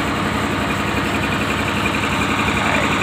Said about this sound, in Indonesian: Ini mesin listriknya pakai Yanmar TF300.